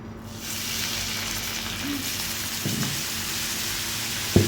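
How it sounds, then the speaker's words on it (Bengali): Pan-fried momos in a little oil sizzle steadily after water is added, a continuous close hiss with a couple of small knocks and no talk. "আমরা হচ্ছে এরকম হালকা তেলের মধ্যে তো ফ্রাই করছি"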